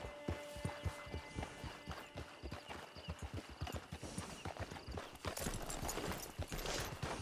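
Horse hooves clip-clop in a quick, steady rhythm in Red Dead Redemption 2. The hoofbeats are close and loud, and the surrounding noise grows louder near the end.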